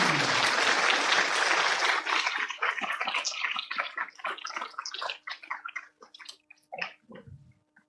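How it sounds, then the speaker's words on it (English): An audience applauds to welcome the guest of honor at a talk: dense, loud clapping that thins into scattered claps and fades out over several seconds. "give a big round of applause to welcome our extremely outstanding guest of honor"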